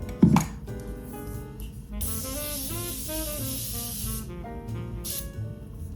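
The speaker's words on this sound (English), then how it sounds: "This is a continuous prep and set mist." A Morphe continuous prep and set mist sprays in one steady hiss lasting about two seconds, followed by a short second burst. Faint tonal background sounds run underneath, and no one speaks.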